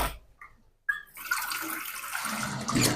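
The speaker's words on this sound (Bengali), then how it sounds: "দিয়ে দেবো ঝোলের জন্য একটু পানি।" Water poured into a pot of chicken curry with new potatoes, heard as a brief trickle and then a steady, fairly loud pouring splash that runs for a couple of seconds.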